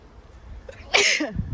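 A single sharp sneeze bursts out close by after a quiet moment, with a short breathy tail.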